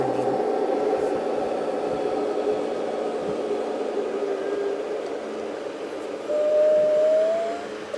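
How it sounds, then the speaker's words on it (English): A Queens-bound P subway train runs through a tunnel in the Trainz 12 simulator, a continuous loud rumbling drone with steady wheel and motor noise and a faint rising whine near the end. "This is a Queens-bound P train."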